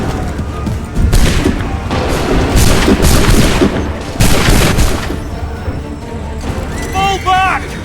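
Musket volleys crack out in Assassin's Creed 3, several loud broadband bursts of massed gunfire with heavy booms between, under shouted battlefield voices and a battle din.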